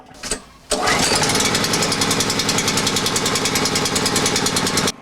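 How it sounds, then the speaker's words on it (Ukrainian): A portable power generator started with a brief pull-start rattle, then its engine catches and runs loud and steady with a rapid chugging pulse, close by. "Далі повертаємося до генератора і запускаємо його."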